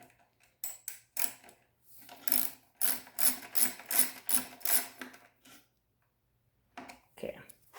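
A ratchet wrench loosens a 10 mm bolt on a 2019 Kawasaki Z400 during air filter removal: a few close clicks, then a run of quick rhythmic rasping strokes, a pause, and a final short burst.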